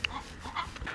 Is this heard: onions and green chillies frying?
no